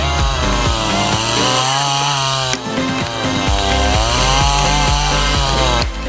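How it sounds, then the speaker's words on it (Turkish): Kingsaw chainsaw engine running loud and close, holding a steady buzzing whine with a brief dip near the middle before revving back up, with no talk. "Sizin de bir kral testere Kingsaw'ınız olsun."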